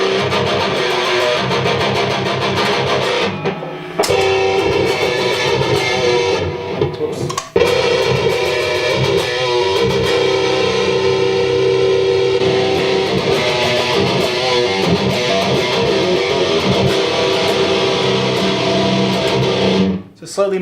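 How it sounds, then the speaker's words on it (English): Heavily distorted electric guitar played through channel 4 of an amplifier for metal tracks, a dense, loud wall of crunchy tone sustained throughout with short breaks near the start and end. "I was using channel 4 mostly for most of the distortion tracks."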